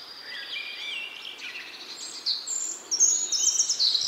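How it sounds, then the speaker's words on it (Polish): A European robin sings a sweet, varied warble of high trills and whistles with shifting tempo, faint and moderately distant, with phrases growing brighter and louder toward the end, no other voices. "Pieśń rudzika to długi, słodki świergot o zróżnicowanym tempie z perlistymi trelami i gwizdami."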